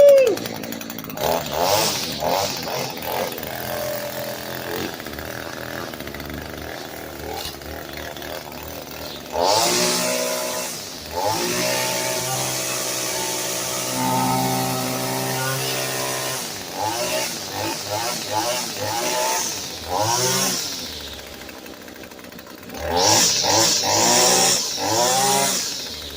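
Echo SRM-225 string trimmer engine fresh from a tune-up, running after a pull start. The two-stroke buzz loudly revs up and drops back in repeated bursts, with a brief voice at times.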